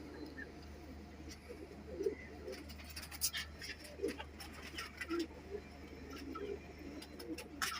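Soft cooing from a Chinese pigeon (cheena kabootar), a few low murmuring coos repeating irregularly at close range under steady background hum, with someone talking at times.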